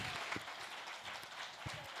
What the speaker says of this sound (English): thank you for that hand clap